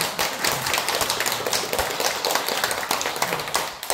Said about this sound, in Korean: 무엇보다 환영의 박수.